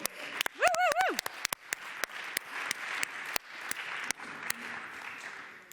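Audience applause for speakers on a panel about Europe and the global AI race, a short burst of clapping with a whoop, followed by a quieter scatter of claps and tapping while a voice speaks.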